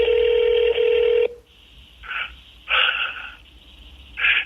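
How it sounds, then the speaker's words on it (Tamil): A telephone call to a number printed on a billboard starts with a steady dial tone. Several separate bursts of touch-tone key beeps follow as the number is keyed in, clear and close, with no talking. "இப்போ எல்லாருமே அந்த நம்பருக்கு வந்து ஃபோன் பண்ணுவாங்க."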